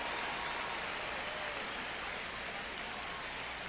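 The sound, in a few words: stadium crowd noise in MLB The Show 25 video game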